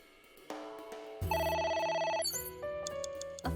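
Telephone ringing in the video game AI: The Somnium Files, a bright electronic ringtone with tonal bursts that starts after a soft chime and carries on for a few seconds with no talking.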